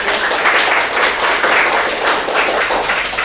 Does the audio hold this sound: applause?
yes